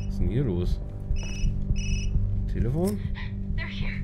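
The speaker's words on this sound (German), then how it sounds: "Telefon?" A telephone rings in the horror game Observer, two short electronic trill bursts standing out over droning, warbling game sounds, while someone talks in between.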